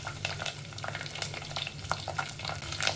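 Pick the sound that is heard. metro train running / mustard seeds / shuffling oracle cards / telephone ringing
mustard seeds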